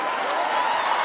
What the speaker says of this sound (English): Round of applause for the moms.